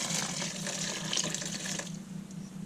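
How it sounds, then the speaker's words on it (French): Cannelé batter poured back through a strainer, a steady close liquid trickle and splash running continuously, easing slightly toward the end, with no talking. "prenez votre passoire comme ça et vous reversez"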